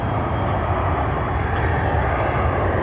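Jet engines of a JetBlue airliner at Toronto Pearson airport, a loud steady broadband roar held close and constant throughout with no talk.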